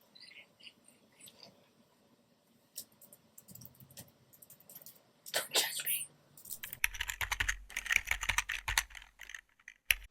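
Rapid, uneven keyboard typing, close up, with bursts of clicky keystrokes growing busier and louder toward the end; no voices.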